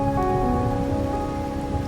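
Steady rain falling in the video game Wuthering Waves, a continuous even hiss under sustained background music tones.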